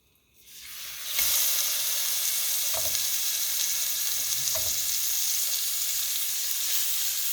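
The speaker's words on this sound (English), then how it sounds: "Let's put it in the pan." Marinated, seasoned chicken with butter hits a hot pan, the sizzle swelling from near silence into a loud, steady hiss that holds throughout, with a couple of soft knocks as the pieces settle, close and without speech.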